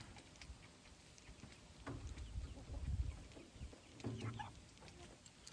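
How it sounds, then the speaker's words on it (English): Black Cochin bantam chicken clucking close by, a few soft low clucks in two short bursts over quiet background hiss. "It is a Cochin bantam, to be specific. And to be more specific, it's a black Cochin bantam."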